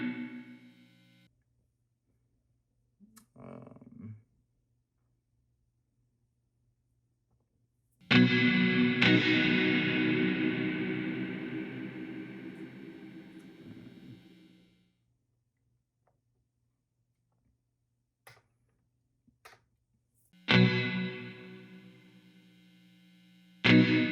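An electric guitar through Helix Stadium XL reverb effects: a few short picked notes, then a loud strummed chord ringing out with a long reverb tail that fades over several seconds, and a final strummed chord at the end.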